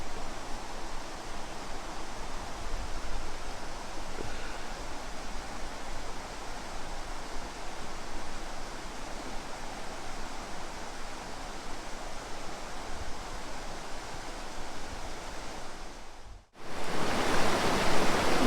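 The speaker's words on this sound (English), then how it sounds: "Look at that little waterfall over there." A small waterfall in Shenandoah National Park gives a constant broadband rush, steady and fairly close, with no talking, and it briefly cuts out and then returns louder near the end.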